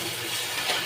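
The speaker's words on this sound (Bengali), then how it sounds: "আমি এবার জলটা দিয়ে দেবো" Water pours into a pan for hilsa fish head curry, a brief close rush of liquid lasting under a second with no voices.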